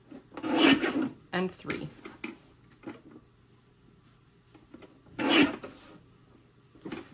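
Scored cardstock strips being trimmed for card making, with two bursts of rasping, sliding cuts from a paper trimmer, close and fairly loud, separated by quieter handling sounds and a brief spoken word.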